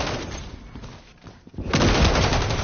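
Call of Duty gunfire: a dense, continuous fusillade of automatic shots, quieter and broken at first, then swelling into loud sustained bursts close by, with no voices over it.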